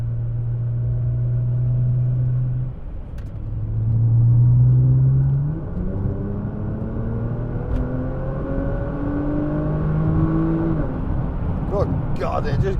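Nissan GT-R pulling hard under acceleration, engine note rising through the gears in steady climbing sweeps, heard from inside the cabin with a continuous road rumble underneath.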